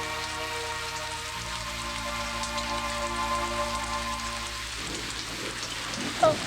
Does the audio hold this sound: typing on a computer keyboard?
no